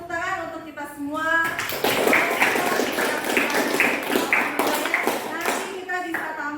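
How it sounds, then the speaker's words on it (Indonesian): Classroom of children clapping together for all the groups after their presentations, a dense burst of applause with a voice over it at the start and end. "Kita kasih tepuk tangan untuk kita semua."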